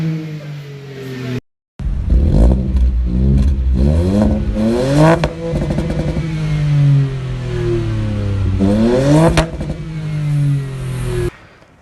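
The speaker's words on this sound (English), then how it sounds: "the first mod I had actually bought for my Mk8 Fiesta was a back box delete for the exhaust" A Mk8 Ford Fiesta ST Line with its exhaust back box deleted revs repeatedly, each throttle blip rising and falling in loud, close bursts over a steady idle, after a brief gap near the start.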